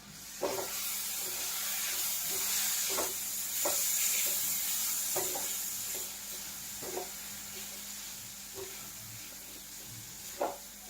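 Ginger garlic paste and onions frying in oil for a prawn fry, a continuous sizzle broken by regular scraping stirs roughly every one to two seconds, with no talking.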